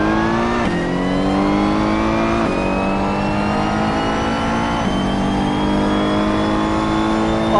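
A race car in the 2014 Assetto Corsa sim roars under acceleration, engine note climbing steadily through three gear changes, with a prominent high transmission whine riding over the loud, close engine and no talking.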